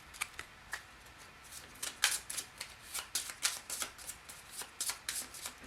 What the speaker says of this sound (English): All right, I shuffled.